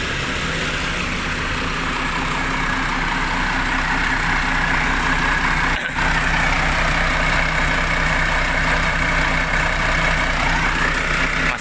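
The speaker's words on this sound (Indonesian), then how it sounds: "Ini mesinnya lagi dinyalain teman-teman." A Hino truck with an RK8 R260 diesel engine idles steadily and smoothly in a parked setting, a loud, even low rumble held for the whole stretch with one brief dip partway through.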